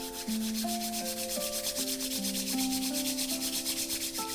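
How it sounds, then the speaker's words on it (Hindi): Both hands rubbed together vigorously at the end of a guided meditation, giving a steady, rhythmic swishing friction under soft sustained meditation music. "दोनों हाथों को जोर से रब करें"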